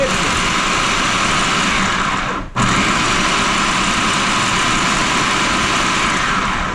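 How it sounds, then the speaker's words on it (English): A food processor packed full of jalapeño peppers runs steadily for several seconds with a loud, continuous motor whir, broken by one brief dip midway before the blade spins back up. "now it's time to blitz up the peppers. So we're gonna put them in our food processor."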